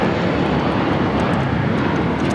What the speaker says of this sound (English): This is American Airlines Flight 4 taking off to JFK on the A321